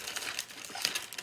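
Cellophane wrap crinkles in brief, close, crisp bursts as it is handled around a gift basket. It is soft overall, with no talk.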